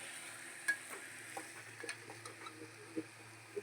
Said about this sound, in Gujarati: મઠ, ચણા, મગ એ બધું વઘારવાનું છે કોરું.